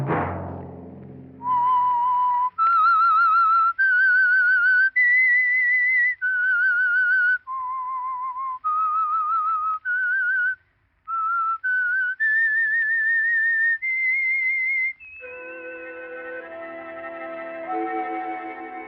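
A melodic whistled theme tune from a 1947 radio drama, clear and sustained, moving through a series of held notes before fading into soft music.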